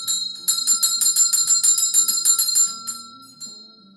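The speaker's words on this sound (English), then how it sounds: "I've got the bell waiting to clear the energy." A hand bell is rung repeatedly to clear energy before a tarot reading, its bright metallic strikes ringing out in a steady run for about three seconds, then fading with a couple of softer final rings.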